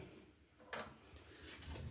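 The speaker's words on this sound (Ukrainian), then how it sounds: "Зараз відкриваю дверки." The door of a heating boiler, with its fire burnt down to embers, opens with one sharp metallic clunk, followed by a few faint clicks over quiet background hiss.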